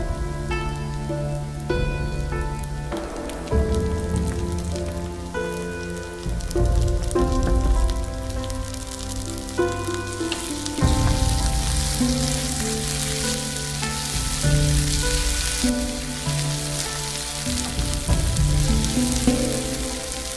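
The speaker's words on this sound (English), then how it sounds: "Now add 1 teaspoon ginger garlic paste and fry it." Ginger garlic paste fries in a pan for brinjal thokku, a loud continuous sizzle that holds steady throughout under background music.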